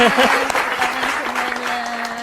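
A studio audience at an Indonesian talk show bursts into bright, close applause, a busy patter of clapping with a faint tonal hum beneath and a few voices mixed in.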